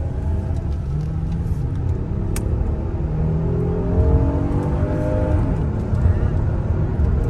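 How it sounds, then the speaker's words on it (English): A Hyundai Palisade V6 in sport mode hums and rises steadily as it accelerates onto a highway, with a continuous low rumble and road noise throughout. "I like the noise this V6 makes."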